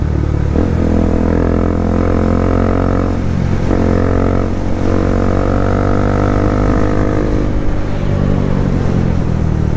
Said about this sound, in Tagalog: Ang ganda ng pipe niya, bilog yung buo yung tunog, no, hindi basag.